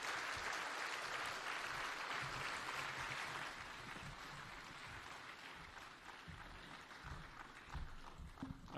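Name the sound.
applause for the President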